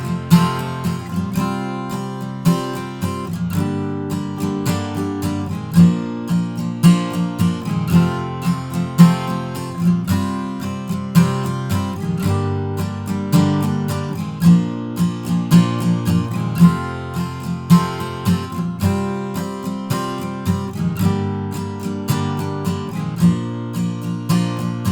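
An acoustic guitar strums the chorus chords of a song in a steady down-up pattern, close and clear, with no voice over it.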